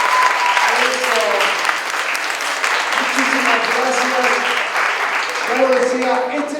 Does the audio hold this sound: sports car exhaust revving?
no